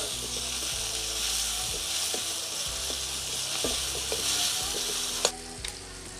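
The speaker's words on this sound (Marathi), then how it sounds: "कांदा आणि टोमॅटो मला छानसा एकत्र भाजून घ्यायचा आहे." Onion and tomato fry together in a pan with a steady, close sizzle throughout, broken by occasional light clicks and taps of a utensil against the pan.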